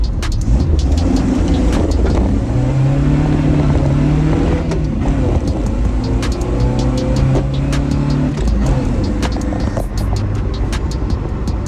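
An old 1980 Chevy LUV pickup engine roars and revs hard as it accelerates to about 40 mph, loud and close throughout, with a rough mechanical drone and no talking.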